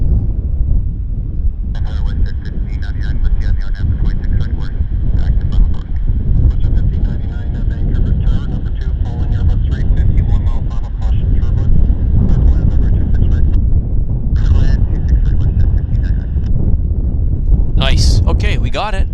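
Steady loud jet roar of a WestJet airliner departing Vancouver airport for Calgary, heard from outdoors with wind buffeting the microphone and voices talking over the engine noise throughout.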